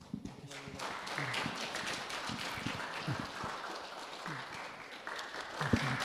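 Church congregation at a Sunday service claps for newcomers receiving small gifts, a soft, fairly distant patter of many hands with a few sharper claps standing out, continuing for several seconds.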